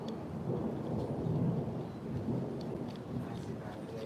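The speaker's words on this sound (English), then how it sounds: "It's nice being listening to the thunder all day on and off." Thunder rolls overhead during a thunderstorm in a low, rumbling swell that rises and eases over a few seconds, with faint rain patter beneath.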